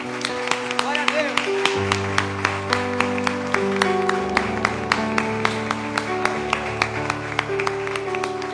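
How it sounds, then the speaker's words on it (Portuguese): Applause and rhythmic clapping ring out in a church worship service, steady evenly spaced claps over sustained music, with a voice speaking along through it. "Vamos aplaudir ao Senhor."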